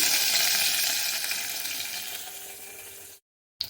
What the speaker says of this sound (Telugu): దంచిన వెల్లుల్లి వేసుకొని ఇలా కరివేపాకుని కొంచెం తుంచి వేసుకోండి